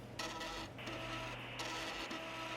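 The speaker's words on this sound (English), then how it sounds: "You're on a Roomba vacuum cleaner." A Roomba robot vacuum cleaner runs steadily up close, a continuous motorized whir with shifting mechanical tones and no voices.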